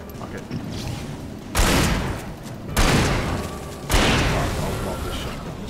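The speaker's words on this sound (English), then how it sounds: "Oh, I love this shotgun." Three heavy shotgun blasts in the Alan Wake video game, each a loud broadband boom with a long decaying tail, spaced about a second apart over steady ambient game noise.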